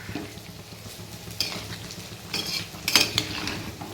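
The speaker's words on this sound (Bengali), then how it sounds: "এবার মাংসটাকে নাড়িয়ে দেবো।" A chicken curry cooked with whole onions is stirred in a pan: a utensil scrapes and clinks against the metal in a few close strokes over a steady sizzle, with no talking.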